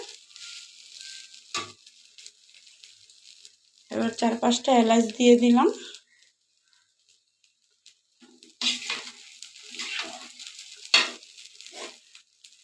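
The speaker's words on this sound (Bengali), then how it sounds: "এবার আমি ভালো করে কষিয়ে নেব।" Rice and lentils sautéed with cardamom in a pan: intermittent bursts of sizzling and scraping stirring, separated by quiet gaps, with someone speaking between them.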